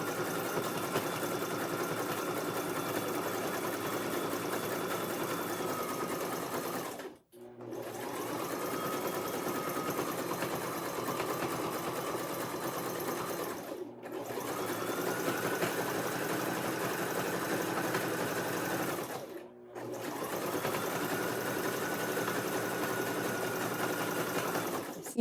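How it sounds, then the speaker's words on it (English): Sewing machine stitching a coiled rope basket, a close, continuous mechanical hum and rapid needle clatter running in three long stretches, each broken by a brief pause. "Continue sewing at this angle."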